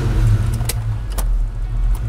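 A 1993 Ford Mustang LX 5.0 V8 cranking and catching, a brief starter whir and clicks followed by a deep, loud, close engine rumble settling into idle.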